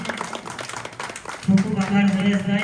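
Audience applause welcoming students at a prize ceremony during a temple festival, scattered claps growing denser and louder in the second half while someone speaks over them.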